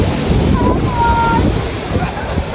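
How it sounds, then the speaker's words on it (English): Strong wind buffets the microphone on the pier at Cayucos, California, a continuous broadband roar with surf-like wash and a faint whistle-like tone in the middle. "It's a little windy. I'm out here on the pier."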